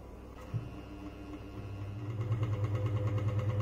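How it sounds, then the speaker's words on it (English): An electric exhaust fan connected to a 220 volt AC supply switches on with a faint click and spins up, its motor hum rising into a steady, slightly pulsing drone close by, with no talking. "So here I'm connecting the exhaust fan to the 220 volts AC supply for testing it."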